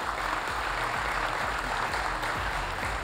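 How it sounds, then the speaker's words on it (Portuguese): A gathering at a farming awards event for winter dryland crop champions gives its team another round of applause, a continuous dense clapping of many hands at moderate level, alone without talk. "Palmas mais uma vez para a nossa equipe"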